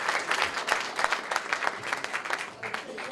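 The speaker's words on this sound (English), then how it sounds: "So let's give them all a big round of applause" Applause from an audience at a Sheva Brochos celebration in Borough Park, a dense steady round of clapping lasting a few seconds at moderate distance, with no talking over it.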